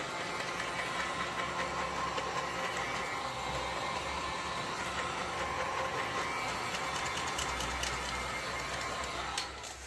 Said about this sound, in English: I'm just going to give it a bit of a helping hand, mainly in the middle, just with my heat gun, just on low.